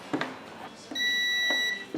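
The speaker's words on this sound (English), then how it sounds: "Trusty digital multimeter here I got from my son, Josh." A digital multimeter gives a steady continuity beep of under a second while fuses are tested during an Atari Pole Position arcade cabinet restoration, with soft handling clicks of the probes before and after.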